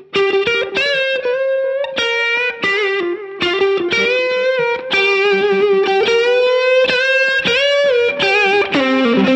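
Electric guitar played through a Keeley Aria compressor overdrive pedal with the blend fully off, a continuous run of sustained, driven melodic notes and bends, loud and close with no talking.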